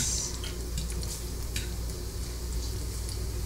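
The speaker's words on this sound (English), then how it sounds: "This Great Value bacon's cooking up beautifully" Great Value hickory smoked bacon fries in a skillet, a loud, steady close-up sizzle with light crackles and a few scraping touches, over a constant low hum.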